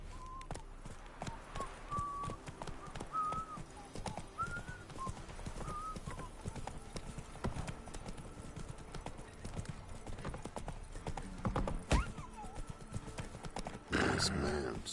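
Hooves of Roach, a horse in the video game The Witcher 3, clip-clop in a steady rhythm beneath game music, with a whinny and background speech also present.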